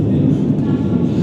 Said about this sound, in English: Train literally going over my head.